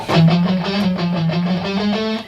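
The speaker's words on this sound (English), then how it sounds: "So if you translate this pattern" A fast chromatic sequence on overdriven electric guitar, a rapid stream of picked notes in a rock style, steady and loud throughout with no talking.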